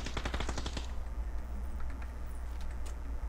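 Automatic gunfire in the video game PUBG, a rapid burst of about a dozen sharp shots in the first second, followed by low rumbling game ambience and faint distant sounds.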